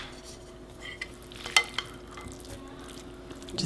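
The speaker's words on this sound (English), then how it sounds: "we're just gonna put it right back into our shells, our butternut squash shells" A spoon scoops cooked butternut squash filling back into the hollowed squash shells, giving a few soft scrapes and sharp clicks of utensil against shell over a steady low kitchen hum, with no one talking.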